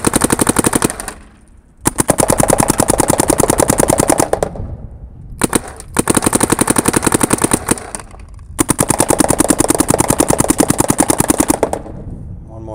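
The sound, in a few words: paintball marker firing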